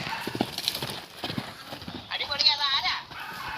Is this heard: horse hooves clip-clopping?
yes